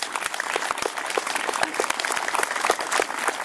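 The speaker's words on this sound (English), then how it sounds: "Can we have a great big round of applause" Sustained applause from an audience at an outdoor village fete in Avington, a dense steady patter of many hands clapping together for the full stretch with no talk over it.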